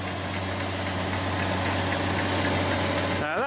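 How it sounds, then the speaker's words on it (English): A New Holland TZ tractor engine idles nearby with a steady low mechanical throb and fixed hum, running evenly throughout with a slight pitch shift right at the end. "A TZ, New Holland TZ. Everyone likes the tractors."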